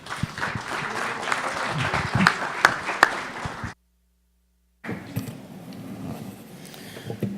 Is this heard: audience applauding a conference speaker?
yes